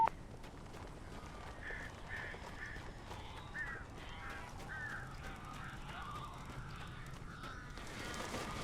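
Crows in the Alan Wake video game caw in a run of repeated harsh calls against a low, murky ambient drone. No one speaks.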